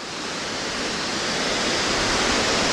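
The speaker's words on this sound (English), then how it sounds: "but a very steep stream" A steep mountain stream rushes down almost like a waterfall, a steady, loud broadband roar of churning water close by that grows slightly over a few seconds, with no voices.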